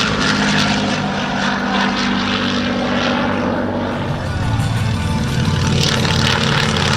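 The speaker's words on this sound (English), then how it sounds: "Enjoy these passes by the wonderful Flying Bulls Warbirds without the ground action." A Flying Bulls warbird propeller aircraft roaring past at an airshow, a loud, sustained engine drone that swells and shifts in pitch as it passes.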